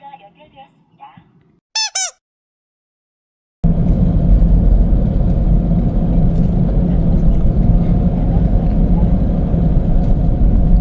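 A Peugeot 508 on a test drive after repair of a fault where it would not accelerate, producing a loud, steady engine and road rumble from inside the car, preceded by a few brief squeaks and a short silence.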